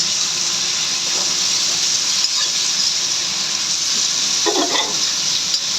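Ginger garlic paste sizzling in a pan while frying for banana-flower chops, a steady bright hiss with a few soft stirring scrapes near the end.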